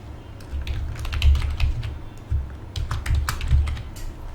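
Fingers tap quickly on a computer keyboard while entering a new password, producing a close, uneven run of crisp clicks and key thumps.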